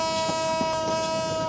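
Train pulling out of Kamalapur railway station, a sustained steady horn tone sounding over a rumbling, busy platform background.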